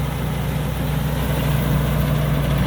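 A 2018 Suphakorn Charoen Kanchang racing combine harvester runs in a rice field, a steady low diesel drone with constant rumble, loud and unbroken, no voices.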